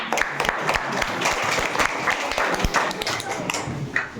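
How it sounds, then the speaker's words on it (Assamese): Steady applause from an audience at a quiz competition, many hands clapping loudly and continuously with crowd murmur and voices mixed in beneath. "সকলোৱে হাত চাপৰি দিয়া।"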